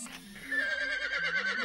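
A horse in a video game neighs in a high, shaky whinny that wavers up and down, clear and fairly close, with a brief tonal sound before it.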